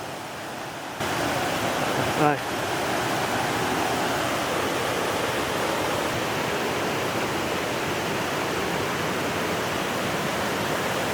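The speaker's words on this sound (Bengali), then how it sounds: "অবশেষে চোখ জুড়িয়ে গেল ছলছলি ঝর্ণার দর্শনে" Chhalchhali waterfall at Ajodhya Pahar in Purulia, a loud, steady broadband rush of falling water heard close and continuous, with no voices over it.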